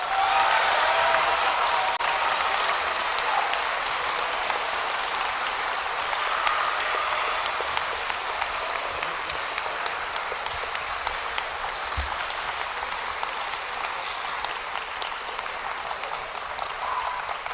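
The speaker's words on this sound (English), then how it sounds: "And please, one more round of applause for all of our Latinists." School assembly audience applauding award-winning Latin students, sustained broad clapping from a large crowd, steady and even throughout, slowly thinning toward the end with no talk over it.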